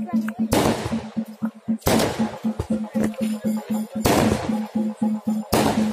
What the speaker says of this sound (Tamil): கைஸ் ஆக்சுவலி பட்டாசு வெடிச்சிருக்கு.